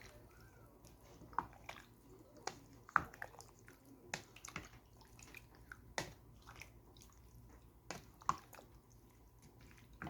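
Beef soup being stirred in a pot with water and broth: faint scattered clinks and soft sloshing, with small sharp taps of the utensil against the pot at irregular moments in a quiet room.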